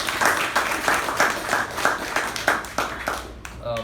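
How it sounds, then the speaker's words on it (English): A crowd at a Toastmasters meeting claps together in a warm, steady round of applause, dense and lively, fading out at the end. "Let us give him a thunderous round of applause."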